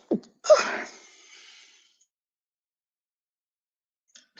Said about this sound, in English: muted the wrong time and y'all still got to hear me sneeze